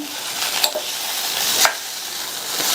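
A broad bean stir-fry is stirred in a hot pan, with a continuous sizzle broken by two or three sharp scrapes of a spoon against the pan.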